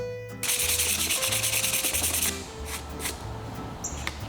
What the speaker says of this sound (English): With the cloth applied, I could now sand him down and get the surface smooth for paint.